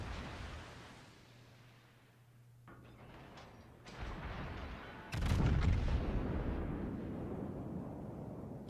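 In a naval combat video game, artillery fires at the battleship Yamato with booming shots and a heavy blast that swells into a sustained rumble, loud and close, with no speech over it.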